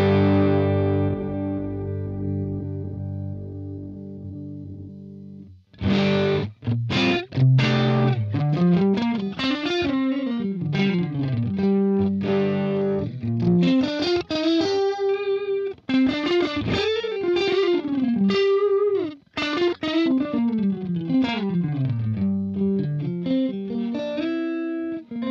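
Electric guitar played through a Line 6 Helix with panned cabinet impulse responses, a sustained chord ringing alone at first, then a loud, steady run of distorted, effect-laden riffs and picked notes with no talking.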